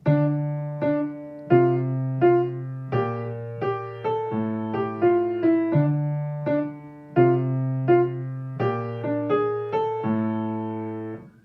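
Piano plays a short phrase of bass notes and chords with melody notes above, clear and close, moving at a moderate pace with no talking.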